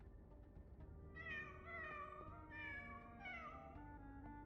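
In a video game, a cat meows a few times in quick succession. The clear, tonal cries sit over a low, steady background hum and are fairly faint overall.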